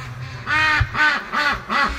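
Several ducks quack in four loud, evenly spaced bursts, close by, outdoors at a flock's gate where they wait late in the morning to be let out.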